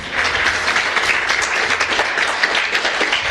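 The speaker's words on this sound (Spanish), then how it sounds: "Vamos a alabar, hermanos, con nuestras palmas a Cristo Jesús." A church congregation clapping their hands together in praise, a dense, steady and loud wall of applause that continues evenly throughout with no talking over it.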